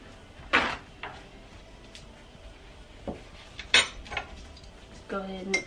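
Ingredients for slow-cooker chicken teriyaki mixed in a bowl with a utensil: sparse, sharp clinks and scrapes against the bowl, separated by quiet gaps, with a brief ringing knock near the end.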